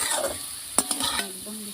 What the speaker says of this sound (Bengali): আলুটা আমি দেখুন এইভাবে সুন্দর করে ভেজে নিয়েছি